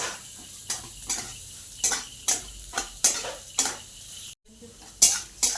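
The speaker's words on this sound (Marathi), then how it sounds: "आता ही भरड आपण तुपावरती मस्त भाजून घेऊयात" Semolina roasting in hot ghee in a pan, a faint sizzle under repeated close metal clinks and scrapes of a spoon stirring against the pan at a steady rhythm.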